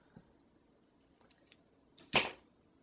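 Scissors cutting through sheets of planner stickers, a few faint snips followed by one louder, close slicing cut, with no talking.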